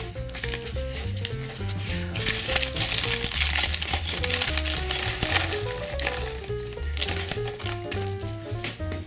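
Plastic parts bags from LEGO set 60090 Deep Sea Scuba Scooter crinkle and rustle close by as the box is unpacked, with small pieces clicking and rattling inside, busy and continuous throughout.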